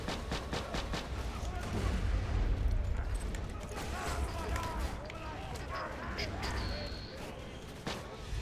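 The Unkempt Harold pistol firing in Borderlands 2, a dense barrage of booming explosive shots and blasts rolling on continuously with a heavy low rumble, while someone talks over the action.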